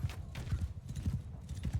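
Thudding hooves of cavalry horses galloping across a Mount & Blade II: Bannerlord battlefield, a dense close rolling clatter of many beats with battle noise behind.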